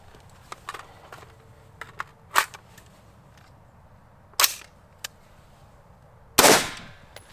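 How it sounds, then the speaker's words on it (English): Rifle shots fired on an outdoor shooting range, several sharp cracks ringing out at irregular intervals, the last two loudest and closest, with quieter distant pops and faint clicks between them. "now that Nick has fired his last shot"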